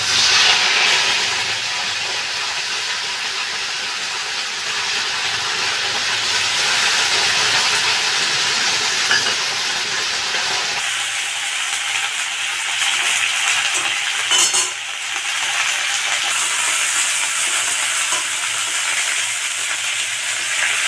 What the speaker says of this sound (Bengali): এবার আমি শিউলি পাতাটা ভেজে নেব।